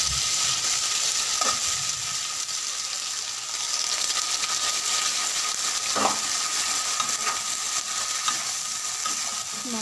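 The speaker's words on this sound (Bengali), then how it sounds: "মশলা দিয়ে দিলাম, মশলা দিয়ে আমি ভালো করে কষিয়ে নেব।" Cumin, ginger and dried chili sizzle steadily in a hot pan alongside fried potatoes, a constant bright hiss with occasional stirring scrapes and clicks.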